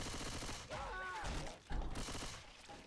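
Rapid gunfire from Left 4 Dead 2 zombie combat, bursts of shots over a dense game soundscape with a brief tonal effect in the middle and a heavy thump near the end, no voices.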